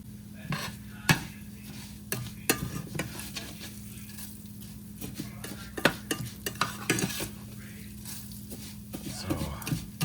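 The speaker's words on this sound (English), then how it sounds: "at this stage, you're browning the pasta known as vermicelli" Vermicelli pasta browning in a pan for Spanish rice: a steady crackling sizzle punctuated by repeated sharp scrapes and clicks of a utensil stirring against the metal, close up.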